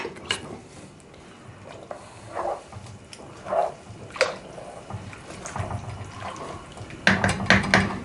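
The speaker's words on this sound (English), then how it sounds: "I'm going to give that just a quick stir." Pea and bacon soup being stirred in a pot: scattered scraping and clinking knocks of a utensil against the pot, irregular and close, with a louder cluster of clatter near the end.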